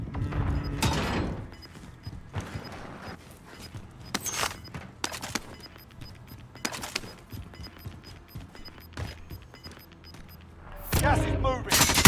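Assault rifle fire erupts in short, loud bursts during a Call of Duty Warzone match, separated by quieter stretches of game ambience, with a heavier flurry of shots at the end.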